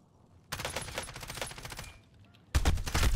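Bursts of rapid gunfire in Call of Duty Warzone, loud and close, one dense volley running about two seconds, a short lull, then a heavier burst; a voice speaks briefly.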